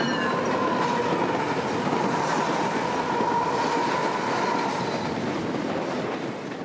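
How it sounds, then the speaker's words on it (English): A Metra commuter train, number 503, rolls past a Chicago-area station heading west toward Elburn, a steady loud rumble of wheels and cars with a faint squeal, continuous throughout and close by. "Metro Train 503 would round the corner heading west towards Elburn"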